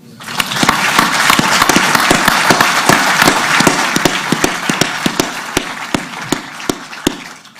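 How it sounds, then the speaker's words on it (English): Loud audience applause at a press conference in New York, a dense wash of clapping that swells, then thins out into scattered individual claps toward the end. "I'd just like to have a round of applause right there"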